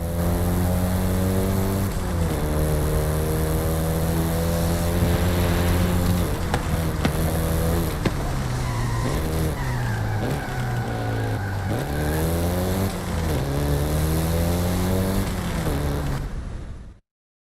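Volkswagen Golf GTI engine in Forza Horizon 5, revving loudly through repeated gear changes with rising and falling pitch, and a brief tire squeal midway, continuous and close for the whole stretch.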